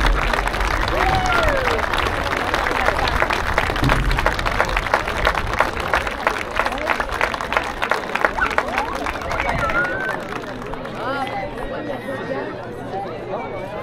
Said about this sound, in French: on peut les applaudir encore, s'il vous plaît.